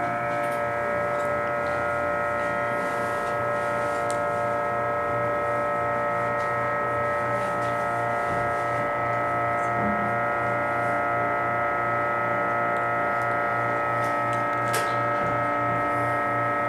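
A ThyssenKrupp hydraulic elevator running inside a hotel, a steady droning hum with a constant pitched whine, unbroken for the whole stretch, with a faint click or two along the way.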